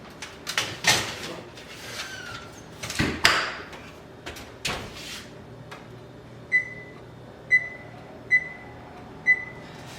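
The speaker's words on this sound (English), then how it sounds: "I'm just going to put my spiced nuts into the oven." An oven door opens and a tray of spiced nuts slides in with a few clunks and thuds, then the door closes and four short, evenly spaced electronic beeps sound from the oven.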